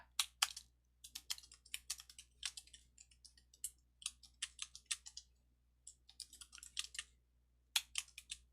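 Fingers type on a computer keyboard, a quiet run of uneven bursts of clicking keys with short pauses, entering a Python for loop, close and alone.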